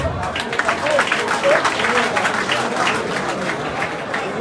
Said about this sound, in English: Can we clap for Dr.